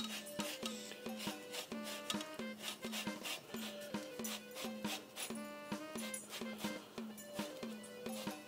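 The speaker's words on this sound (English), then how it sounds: "I think I'll start off with zest of 1 orange" Orange being zested on a grater, a run of close, rhythmic scraping strokes repeating steadily at a soft level.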